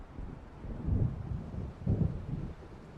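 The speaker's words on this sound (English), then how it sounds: "It seems there's a storm coming." Rumbling thunder and gusting wind of an approaching storm in the video game Alan Wake, two low swelling rolls over a steady windy hiss, with no talk.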